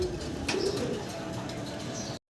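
Fancy pigeons cooing softly in a loft, a few low throaty coos over faint background noise, fairly close, with no talk.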